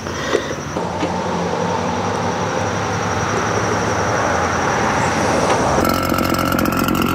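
A RedMax EBZ8500 backpack blower engine runs steadily and loudly with a broad, constant roar and airy rush, holding one even level throughout with a slight shift in tone near the end.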